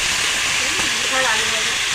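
Steady, loud sizzling hiss of potatoes frying in oil, continuous throughout, with faint voices underneath.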